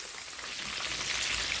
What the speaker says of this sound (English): All right, we're going to let these fry. Don't touch them. Let them fry.